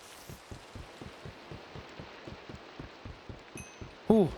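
Rain falls steadily in Minecraft, a soft even hiss with a regular low thumping pulse beneath it and a sharp brief sound at the end.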